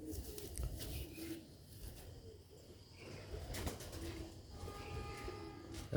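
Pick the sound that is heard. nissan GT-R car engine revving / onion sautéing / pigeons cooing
pigeons cooing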